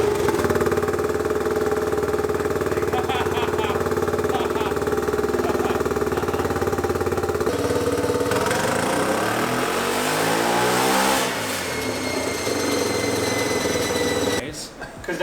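A racing lawn mower engine running on a dyno, a loud, sustained mechanical drone with pitch sweeps as it revs up and down, ending in rough bursts; voices are faintly mixed underneath.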